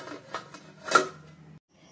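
A metal lid set onto a pan of semolina upma, one short clatter in the middle of a quiet kitchen moment with faint light clinks around it.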